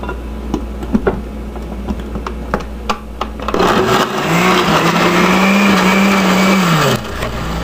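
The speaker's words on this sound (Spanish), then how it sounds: "No te olvides, pon la tapa en la licuadora." A kitchen blender whirs loudly and steadily as it mixes salsa ingredients such as chopped jalapeños, starting after a few light clicks and taps and running for about four seconds with a rising then falling pitch.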